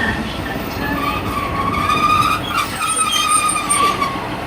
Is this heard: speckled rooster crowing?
no